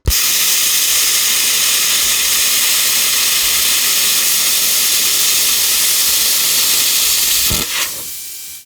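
A Simder CUT 50 plasma cutter slices through 1/8 inch painted metal with a loud, steady hiss that runs for several seconds, then cuts off abruptly and fades.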